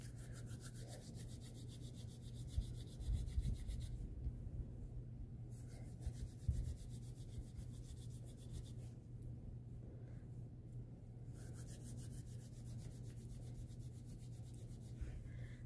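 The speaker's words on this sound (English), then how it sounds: "we just tightened up three dreads in less time than it took me to do one before" Dreadlocks being tightened with a new device, a faint close-up rubbing and scratching texture that runs steadily with brief pauses and a few soft knocks, no talking.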